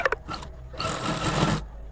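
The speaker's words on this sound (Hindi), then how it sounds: "तो दोनों साइड की हम इसी तरह सिलाई लगा लेंगे।" A sewing machine runs a brief burst of stitching along the side seams of a short kurti, following a few quick clicks, close and steady for under a second.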